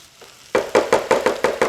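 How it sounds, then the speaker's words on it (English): A spatula scrapes a plant-based breakfast filling around a sizzling pan in seven quick, evenly spaced strokes, close and crisp over a low frying hiss. "Stir this just a little bit more"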